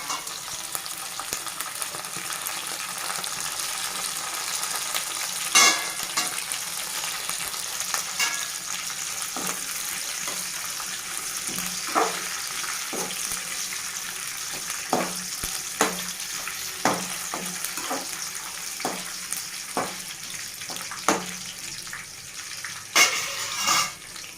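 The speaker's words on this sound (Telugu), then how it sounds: "పచ్చిమిర్చి కొంచెం ఫ్రై అయ్యాయి కదండి" Green chillies fry in a pan, giving a steady crackling sizzle close by, with sharp pops and spatula scrapes recurring throughout and no talking.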